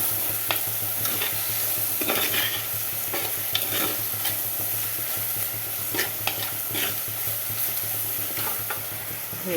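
Mackerel curry ingredients sizzle steadily in a hot pan, with a spoon scraping and clinking through them in irregular stirs, close and fairly loud throughout.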